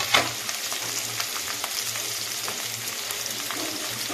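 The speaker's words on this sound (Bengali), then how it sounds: "আমি এবার এতে গাজর আর ক্যাপসিকাম আর লঙ্কা এগুলো ফ্রাই করে নিচ্ছি" Carrots, capsicum and chillies fry in a heated kadai over a gas flame, giving a steady, close sizzle with a soft initial clatter as they hit the hot oil.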